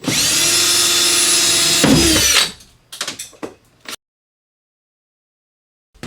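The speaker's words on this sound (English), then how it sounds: "It's going to take an 1/8 inch drill bit and drill these rivets out." A loud, close power drill with a 1/8 inch bit whines steadily for about two seconds drilling out rivets on a Honda Pioneer 1000 panel, then stops, followed by a few short clattering knocks before silence.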